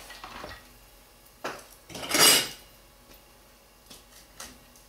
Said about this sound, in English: I may have to use a knife to cut it.